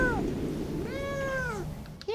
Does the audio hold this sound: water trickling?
no